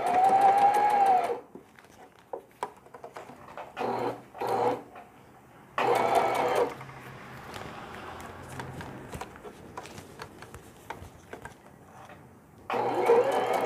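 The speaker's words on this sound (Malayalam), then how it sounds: "ഹാങ്ങറിൻ്റെ താഴെ ഭാഗം സ്റ്റിച്ച് ചെയ്യുകയാണ്." A sewing machine stitches the bottom of a fabric hanger on a baby's hanging laundry bag, its fast, even whirring running in bursts of a second or two with quiet handling pauses in between.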